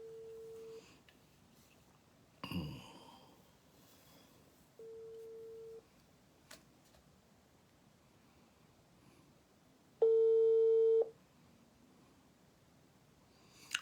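Brief telephone beep tones after a call is hung up, three separate steady pulses about a second long spread across a quiet, hissy line with scattered faint clicks and noise, the last tone louder and richer, with no talking.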